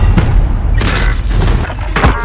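Loud gunshots in Call of Duty: Modern Warfare, three sharp, booming reports spaced out over about two seconds, close and punchy above a steady game background.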